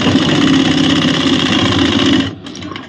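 A sewing machine stitching around the neckline of a ladies' suit runs in one loud, steady mechanical whir, then cuts out sharply near the end.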